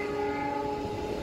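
A train passes on a rail line near a high-speed rail tunnel, a loud, sustained horn blast sounding over rumbling wheels close by.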